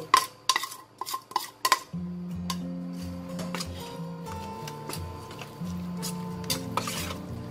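Shallots and garlic stirred into a Thai chili dip (nam prik) mixture: several sharp utensil clinks and scrapes against a bowl or pan at first, then steady mixing sounds over a humming background, close and fairly loud.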